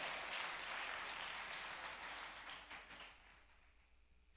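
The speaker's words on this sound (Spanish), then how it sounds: "Dale fuerte ese aplauso a él." Church congregation applauding during a sermon, a broad wash of clapping that is strong at first and gradually thins and fades out.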